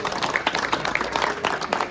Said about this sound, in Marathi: ते एक रोहित मोटरसाठी एकदा टाळ्या होऊन जाईल